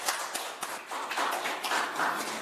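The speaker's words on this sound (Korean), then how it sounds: "다시 한번 큰 박수로 환영해 주시기 바랍니다." Scattered clapping from an audience at a foreign-policy and security forum, uneven claps that thicken into brief applause, fairly close, with no talk over it.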